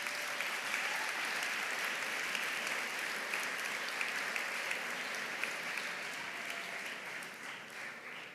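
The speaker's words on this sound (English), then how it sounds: "Please give them a round of applause" Steady, dense applause from a large audience at a school assembly honoring varsity sports champions, a continuous wash of clapping that stays loud and even throughout before easing slightly at the end.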